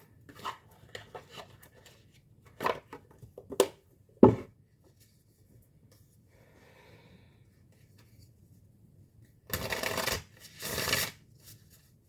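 Oracle cards from the Oracle of the Seven Energies deck are shuffled in short, soft bursts of riffling and rubbing between quiet pauses, with two longer shuffling runs near the end.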